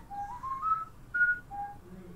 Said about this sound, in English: Okay, can you stop whistling?